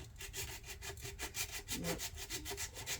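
Rhythmic back-and-forth rasping of drywall sandpaper scrubbing paint off a 1/350 scale USS Enterprise model, a steady, close, moderately quiet scratching stroke repeating several times per second.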